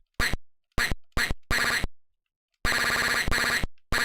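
Sampled duck quacks from the Atari ST game Illogicoma, loud digitized bursts: four short quacks, a pause, then a longer doubled quack and one more clipped hit, sharp and close against silence.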